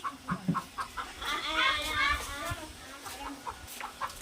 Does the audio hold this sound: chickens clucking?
yes